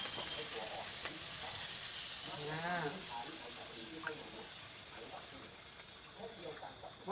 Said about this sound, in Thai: จากนั้นเราใส่น้ำเปล่าครับ